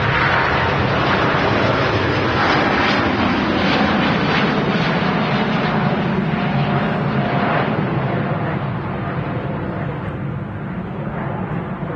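A Singapore Airlines jet departs Manchester Airport on a wet runway, a loud, continuous engine roar that holds steady for the whole stretch and fades slightly near the end, with no voices.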